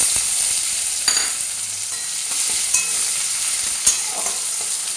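Onions fry in oil in a pan, a dense, steady sizzle close up with a few sharp pops and utensil taps.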